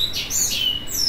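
A yellow-vented bulbul (trucukan), one of a group of young birds, gives several high, bright chirps and quick rising and falling whistles, close and clear over faint background noise.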